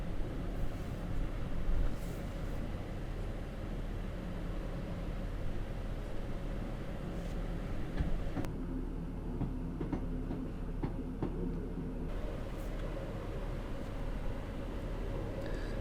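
Train in Train Simulator coasting along rails at about 15 mph with power shut off, a steady rolling rumble and faint clicking, continuous and fairly close throughout.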